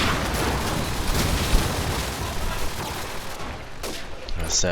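Rapid bursts of gunfire from a Counter-Strike match at a LAN playoff, loud and continuous across the clip with overlapping shots, under a caster talking throughout.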